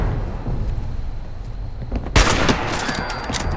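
Gunfire in the video game Fallout 76: a steady low rumble suddenly broken by a loud, sharp shot about two seconds in, followed by a rapid crackle of further shots.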